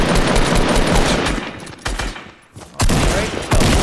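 Rapid bursts of gunfire in a Fortnite match, loud and dense, broken by a brief lull near the middle before heavy shooting resumes.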